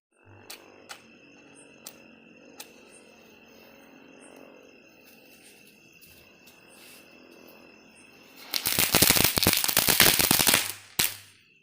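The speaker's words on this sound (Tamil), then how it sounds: "கிட்கேட் அப்படிங்கிறத நம்ம யூஸ் பண்ணி பார்க்க போகிறோம்." A KitKat-type Sivakasi Diwali firecracker goes off outdoors at night, a loud rapid crackling burst lasting a few seconds after a quiet stretch of chirping crickets.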